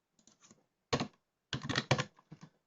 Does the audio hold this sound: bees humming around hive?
no